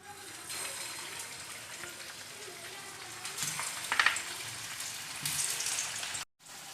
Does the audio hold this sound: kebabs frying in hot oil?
yes